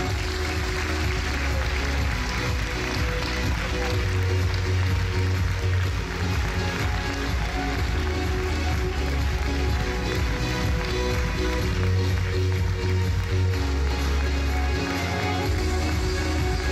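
Sustained audience applause and crowd noise at a Miss France regional pageant, a steady, dense clapping that continues unbroken throughout, loud and filling the room.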